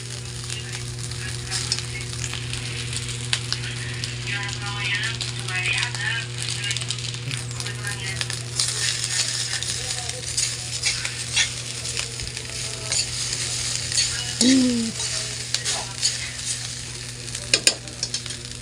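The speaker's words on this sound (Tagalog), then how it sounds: "Sangag ko itong aking kanin." Leftover rice fried in a hot pan with a spatula, a steady close sizzle with scraping and stirring strokes throughout, a faint hum beneath and occasional voices.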